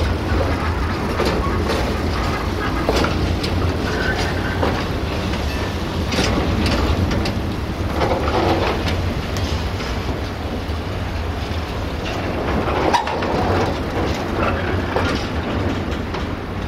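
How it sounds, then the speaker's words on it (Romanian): Locomotive at Oradea Vest station in winter pushing three railway wagons while shunting, giving a steady, loud rolling rumble with scattered clicks and clanks of wheels and couplings, with no talk. "Mai pinge 3 vagoane."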